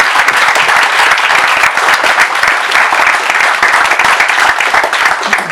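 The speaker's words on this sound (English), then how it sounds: "let's give a warm round of applause for Wayne." An audience at a startup meetup gives a warm round of applause, loud, dense and continuous clapping close by that holds steady for the whole stretch.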